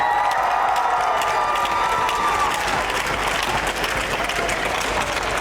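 An arena crowd at an ice hockey team's meet-the-players event cheers and applauds steadily and loudly throughout, a dense wall of clapping and shouting.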